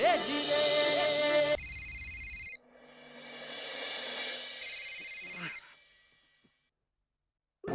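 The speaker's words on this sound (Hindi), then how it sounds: "पिंकू फोन क्यों नहीं उठा रहा है?" A phone ringtone plays loud and steady, a melodic electronic ring that repeats before cutting off, followed by a brief pause of silence.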